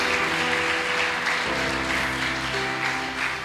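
A church congregation claps together in a sustained burst of applause, with sustained musical tones playing underneath.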